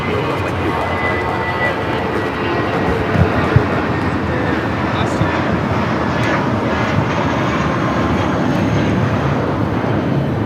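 A Volaris Airbus A320 takes off from LAX runway 25 right, its jet engines a loud, steady broadband roar that holds through the whole stretch without talk.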